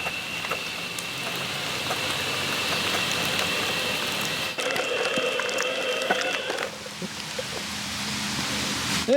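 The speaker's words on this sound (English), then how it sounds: "It's kind of raining right now." Rain falls outdoors with a steady hiss and pattering drops on nearby surfaces, continuous and moderately loud, with some electronic beeping and clicks from a phone mixed in and no talking.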